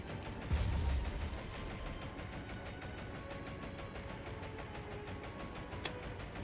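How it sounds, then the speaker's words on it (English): A ship's magazine exploding in the naval combat game War on the Sea, heard as a sudden loud booming blast that rolls into a sustained rumble of gunfire and engine noise, with a sharp crack near the end. "Oh yeah, magazine explosion."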